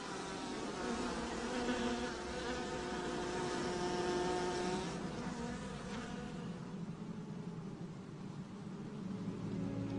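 Many honeybees buzz in a dense, droning swarm around a hive inside a fruit tree trunk, the hum rising and falling steadily throughout.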